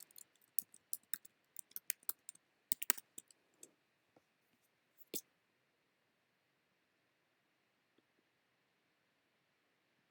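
A password is typed on a Mac keyboard as a quick run of soft, close key clicks for about four seconds, followed by a single louder tap and then near silence.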